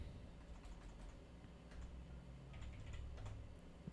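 Quiet typing on a computer keyboard, a steady patter of light clicks and taps at close range, continuing unevenly throughout.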